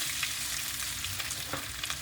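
Butter sizzles in a pan with pistachios, a steady close crackle with occasional stirring scrapes, no voices.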